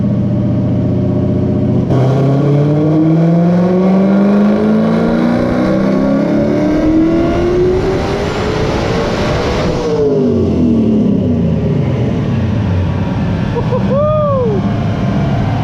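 A turbocharged 1993 Mustang Cobra with a swapped Coyote V8 and a 91 mm turbo at 24 psi makes a dyno pull: a loud engine roar sweeps upward in pitch, then cuts off and winds down with a turbo whistle and brief chirps.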